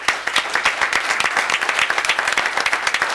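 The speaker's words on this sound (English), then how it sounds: "just give a round of applause for that." Audience applause fills a town board meeting room, a steady patter of many hands clapping at close range for about three seconds with no talking over it.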